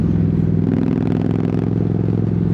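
Motorcycle engine revving with a steady, loud throbbing drone that echoes under a bridge while riding motocamping through traffic, the rumble constant throughout with no talk.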